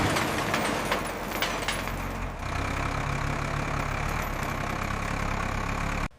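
A 1967 Ford Mustang Fastback engine runs at a steady, rough idle with a dense, broadband rumble, close and continuous for several seconds before cutting off abruptly.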